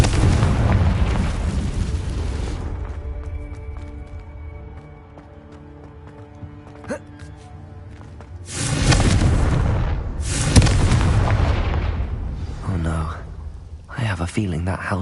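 Repeated spell blasts from Hogwarts Legacy: loud booming explosions with crackling bursts, one big blast at the start and more heavy detonations near the end, with game ambience in between.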